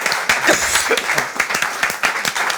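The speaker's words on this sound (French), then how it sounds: "on applaudit" Lively audience applause at a live comedy show, close, loud clapping with distinct individual claps and a few cheers over the top.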